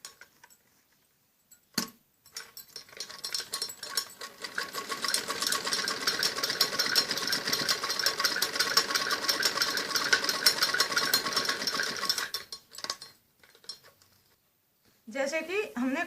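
A sewing machine stitches a kameez seam in a steady rapid whirring run lasting about ten seconds, starting and stopping with brief clicks, close and fairly quiet, with a voice briefly at the end.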